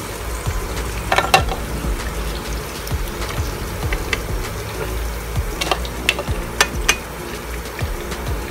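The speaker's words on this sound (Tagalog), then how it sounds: "ang ganda ng pagka-prito ko" Oil sizzles and crackles steadily as pork belly fries in a pan, with occasional sharper pops and scraping clinks, no voices.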